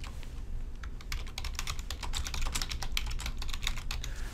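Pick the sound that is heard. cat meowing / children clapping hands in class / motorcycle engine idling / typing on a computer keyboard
typing on a computer keyboard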